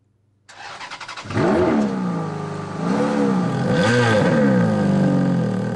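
A luxury car at an evening auction of Ferraris and Maseratis in Saint-Priest is started up close: a brief starter crank catches into a loud engine, followed by several rising and falling revs.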